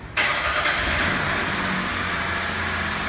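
Car engine cranks and starts abruptly, then settles into a steady, loud idle running close by during an EVAP system self-test, with no talking over it.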